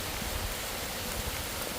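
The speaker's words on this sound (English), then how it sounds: "And it is pouring down rain." Pouring rain hisses as a steady, dense wash of noise outdoors beside firewood, continuous and even with no voices.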